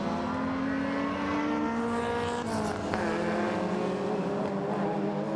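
Several racing cars, among them a flat-fronted Mini, BMW and Citroën, drone past on a circuit during a retro rallycross round, engines revving in a steady, moderately distant wash of sound with no speech.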